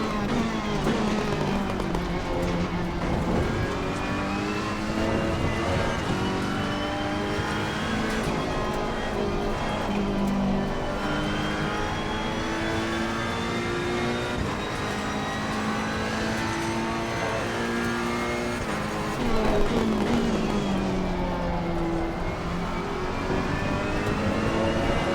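Race cars in Assetto Corsa Competizione, including a Ferrari EVO GT3, at a Barcelona sprint race, with engines roaring steadily through the whole stretch as they rise and fall in pitch with shifts and passing cars.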